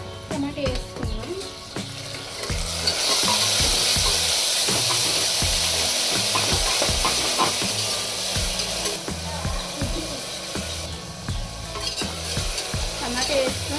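Tomato goes into a pan of frying curry leaves and ginger, setting off a loud rising sizzle and hiss that holds steady while a utensil stirs and clinks, with a voice talking over it.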